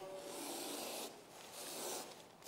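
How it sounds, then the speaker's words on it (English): Butcher knife edge being sharpened, two or three long rasping strokes in quick succession, close but soft, with no talking. "That's how you sharpen a butcher knife."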